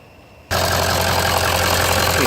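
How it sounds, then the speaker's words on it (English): A Ford Excursion diesel engine with a clogged exhaust fires up after a short quiet lead-in, then settles into a loud, steady idle with a constant low hum and rough clatter. "Okay, vehicle is on,"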